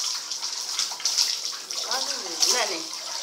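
A tap fed by a pump from a cistern runs steadily with a bright, hissing water rush, fairly close, and a voice briefly rises over the flow.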